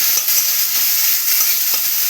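Constant loud sizzle of ginger frying in oil up close, with faint stirring scrapes beneath the hiss.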